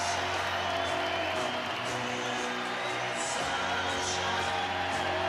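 A hockey arena crowd at a San Jose NHL game roars steadily in applause and cheers for a returning player, a dense continuous wall of noise with a commentator talking over it.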